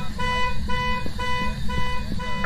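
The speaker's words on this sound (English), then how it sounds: "Is there a way to turn off the car alarm?" A car alarm in the Phasmophobia video game blares in a repeating electronic pattern of rising and falling tones, loud and continuous across the whole stretch.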